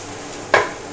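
A single brief stir of beef broth in a pan with a little oil, one short scraping clatter against quiet kitchen background.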